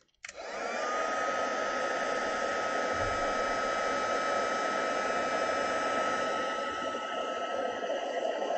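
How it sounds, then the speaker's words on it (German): An embossing heat gun for card crafting switches on with a click and runs as a loud, steady blowing whir with a constant tone, like a hair dryer, close by and uninterrupted for several seconds. "Ich hole mal kurz den Embossing-Föhn."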